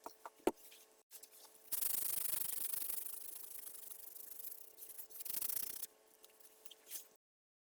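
Sandpaper rubbed across a guitar body with a Floyd Rose bridge, a steady hissing scrape for several seconds that starts after a few light taps and ends with brief handling noises, close and alone.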